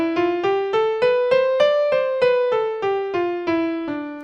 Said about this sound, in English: if we were to play the same exact scale, all white notes, no black notes